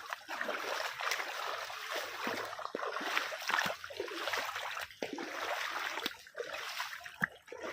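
Rain floodwater flows and trickles through a waterlogged areca nut orchard as a soft, continuous rushing with small splashy bursts. It is faint and steady, with no voices.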